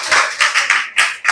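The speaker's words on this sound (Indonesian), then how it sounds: "tepuk tangan untuk kelompok 3" Classroom applause for a student group: short bursts of clapping from several hands, with loud rhythmic peaks roughly every third of a second and no voices.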